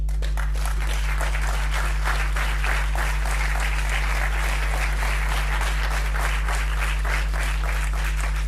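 Sustained applause from a party federal council audience fills the hall, steady and dense throughout with no pause, a low electrical hum running underneath.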